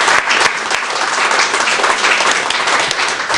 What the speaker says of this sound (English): I think we all owe her tremendous applause